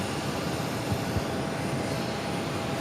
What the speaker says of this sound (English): That is United Airlines 1686 coming in from Denver on the A321neo